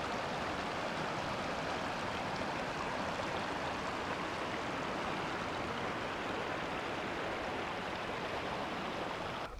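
A river flowing near Isaac Lake on the Bowron Lake canoe circuit, a steady, even rush of water heard alone at moderate distance with no voices.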